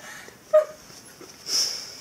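A dog whimpers in two short, high, thin whines about a second apart, faint and close over a quiet background.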